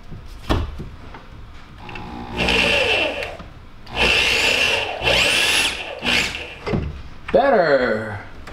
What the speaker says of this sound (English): let's see if I can get it to drill a hole where I want it to drill the hole.